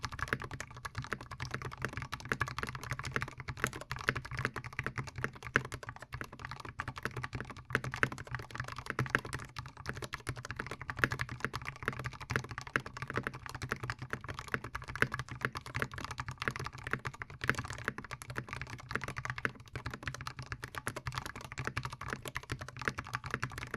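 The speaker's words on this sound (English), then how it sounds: "now let's listen to what it sounds like" Continuous fast typing on a mechanical keyboard, dense clacky keystrokes close up, steady and uninterrupted with no voices.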